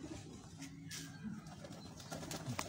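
Rooftop pigeons in Faisalabad, Pakistan, give soft, low cooing calls through a quiet, noisy background, with a few brief coos and no talking.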